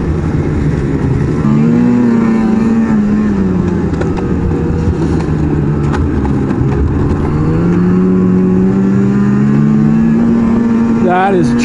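A 2018 Ski-Doo XRS 850 Rev Gen4 snowmobile engine drones loudly and steadily while riding on bare dirt, its pitch rising and falling with throttle, close and continuous throughout, with a rev climbing again near the end.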